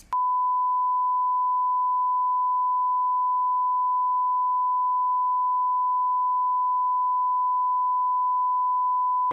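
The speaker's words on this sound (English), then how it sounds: "a large portion of the show was just beeps" A single steady censor bleep tone from a TV show holds unbroken for about nine seconds, loud and alone with no other sound.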